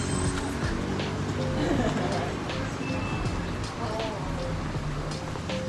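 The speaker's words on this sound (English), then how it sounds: "Oh my god, it's raining." Steady rain hisses across a wet surface in Malaysia, a constant wash of noise with faint scattered thumps and distant activity behind it.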